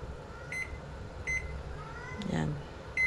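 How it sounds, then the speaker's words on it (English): A kitchen timer is set for boiling, giving short high electronic beeps spaced about a second apart, with a brief rustle in between, in a quiet kitchen. "Set up the timer."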